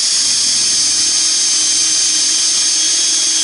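A power drill bores a pilot hole in a Dutch oven camp table, a loud continuous high-pitched whine that holds steady and close for the whole stretch.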